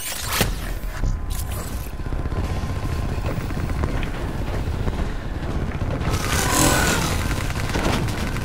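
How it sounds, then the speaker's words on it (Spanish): Attacking drones in the Black Ops III video game during a combat simulation wave: loud, continuous roaring, whooshing and gunfire-like bursts with sharp hits, swelling near the end, and no talking. "Ahora tiene que venir 1000 drones."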